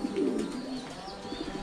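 Pigeons on a breeding farm coo continuously in a low, throaty murmur, several birds close by, with no talking.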